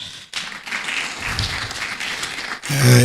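A crowd at a national policy meeting claps steadily and fairly loudly for a few seconds, ending with a sharper, louder burst of sound.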